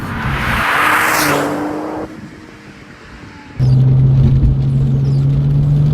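Porsche 911 (996) Turbo with a twin-turbo engine under hard acceleration, a loud rising roar that drops away at a gear change and then returns at a deeper, steady drone. Heard from inside the car with no talking.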